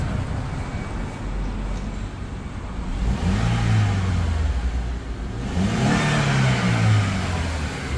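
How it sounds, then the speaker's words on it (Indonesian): A second-generation Honda CR-V engine, freshly serviced with its valves adjusted and injectors cleaned, revs up twice from idle, each loud rise swelling and then settling back down, with no voices over it. "Mesin super halus."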